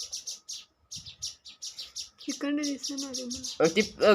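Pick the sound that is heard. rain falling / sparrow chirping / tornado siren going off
sparrow chirping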